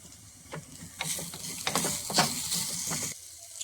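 Spices and ground powders sauté in a pan for a Kerala mango rasam, giving a moderate sizzle with repeated scraping strokes of a spoon against the pan, close and with no talk.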